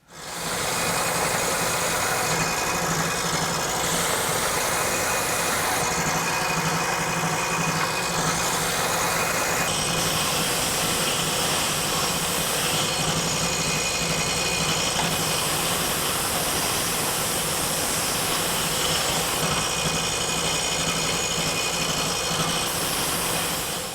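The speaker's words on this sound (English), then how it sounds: "I'm going to take my orbital sander and just kind of finish it off." A steady, loud orbital sander whir runs without a break, a buzzing motor hum with a harsh grinding hiss as it sands the wood of a turkey box call.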